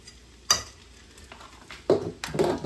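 Stir fry with added protein being stirred in a pan: a few distinct scraping, clattering strokes of a utensil against the pan over a faint sizzle, close and fairly quiet, no talking.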